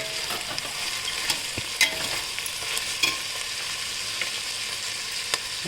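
Potatoes and peas tipped into a pot and stirred, a steady soft sizzle with scattered scraping clicks of the spoon at close range, no voices.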